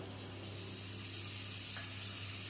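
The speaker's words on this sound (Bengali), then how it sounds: "দিয়ে দেবো মশলার বাটি ধোয়া জল" Spice-bowl rinse water poured into a hot pan while cooking a vegetarian cauliflower curry, a steady splashing pour under a hiss, close and continuous.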